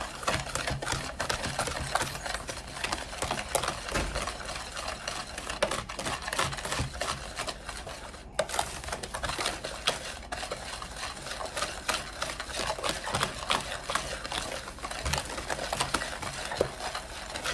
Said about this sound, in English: And whisk it all together.